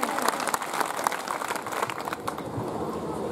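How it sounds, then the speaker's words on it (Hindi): A crowd at a Bhil tribal community stage event claps in welcome as guests are honoured. The short burst of close, rapid clapping fades toward the end, with crowd noise underneath. "एक बार जोरदार तालियों से स्वागत करें"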